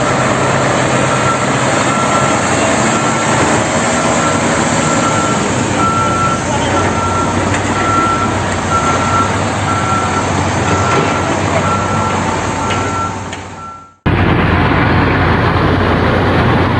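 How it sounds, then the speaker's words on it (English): A concrete mixer truck at a construction site runs with a loud, steady engine rumble and a repeating reversing beep, then cuts off abruptly and resumes. "Concrete mixer."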